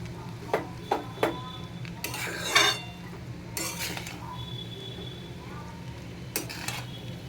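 Chow mein noodles stirred in a pan, with a few sharp metal clinks of utensil against cookware, a brief scraping stir in the middle and scattered clicks over a low steady hum.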